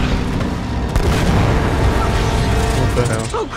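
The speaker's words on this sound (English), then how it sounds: "An anti-aircraft fire?" Anti-aircraft fire in the video game Uncharted: Drake's Fortune, dense rumbling booms and bursts under a continuous loud engine drone, with characters speaking over it.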